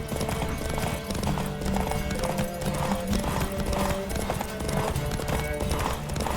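Horse galloping in The Witcher 3 video game, a fast, steady clip-clop of hooves running continuously and loudly throughout, with occasional faint in-game sounds underneath.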